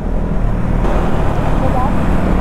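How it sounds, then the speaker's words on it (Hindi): Motorcycles ride along a road, their engines and wind rush forming a loud, steady roar throughout. "तीनों की भी बाइक्स बज रही है मस्त,"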